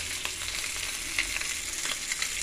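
Onion and garlic fry with salt in a hot pan, giving a steady bright sizzle with small crackles and a few stirring scrapes, close up and without voices.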